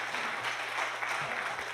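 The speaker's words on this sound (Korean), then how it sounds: "다시 한번 격려 박수 한번 해주시죠" A church congregation claps in encouragement at a sending-off service, a steady, even wash of applause held at a moderate, distant level throughout.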